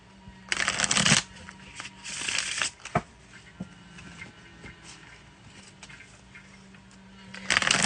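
A tarot card deck is shuffled close by in bursts of riffling and flicking, with short pauses and quieter handling between shuffles.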